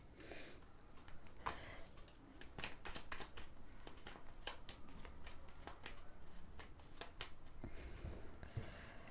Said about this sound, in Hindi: मैंने जानबूझ के शफल करके निकाला है